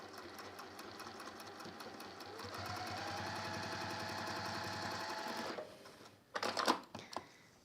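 Close sewing machine running a long continuous seam down the side of a square handbag, its rapid mechanical chatter growing louder midway, then stopping, followed by a few quiet handling clicks and knocks.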